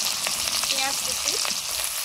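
In hot mustard oil with whole cumin, chopped onion fries with a loud, steady sizzle and crackle, close by and continuous, with faint stirring underneath.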